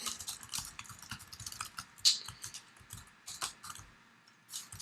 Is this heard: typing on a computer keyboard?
yes